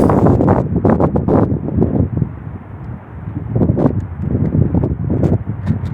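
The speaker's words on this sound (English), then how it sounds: "It's pretty windy." Strong, gusty wind roars and buffets the microphone, rising and falling in waves with rustling underneath.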